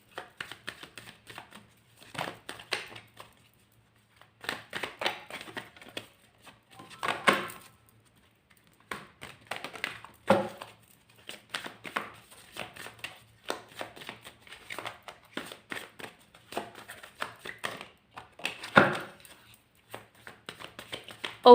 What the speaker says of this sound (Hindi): तब तक मैं कार्ड शफल कर लेती हूँ।